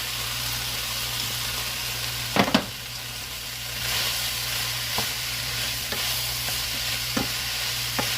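Vegetables for a Mexican cornbread casserole cook in a pan on medium-high heat, giving a steady close sizzle broken by a few sharp clacks of stirring and utensil taps.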